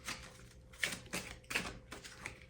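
Oracle cards are shuffled and picked by hand in a quiet room, giving a few soft, papery flicks and taps in an uneven rhythm, close but faint.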